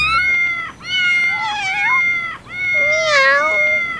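Two drawn-out meows, loud and near, each wavering and rising, sound in turn with a short gap between them. No voices are heard, and the calls may come from cats or a voice imitating them.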